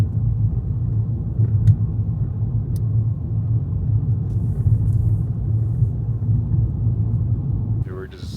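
A car driving through Prescott National Forest in Arizona, heard from inside as a steady, heavy low road rumble throughout, with brief ticks and a faint voice near the end.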